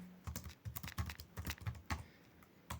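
Rapid keystrokes on a computer keyboard while participant names are typed into a savings record, a steady cluster of close, crisp clicks with short pauses, no voices.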